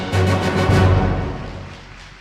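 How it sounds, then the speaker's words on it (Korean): Applause from an audience at a Korean ceremony marking the 15th Nuclear Safety and Promotion Day: a dense wash of clapping that starts loud and gradually fades away over about two seconds. "여러분 뜨거운 박수 부탁드리겠습니다"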